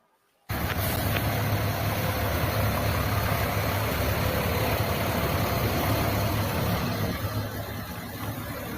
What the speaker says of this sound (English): Okay, those heavy trucks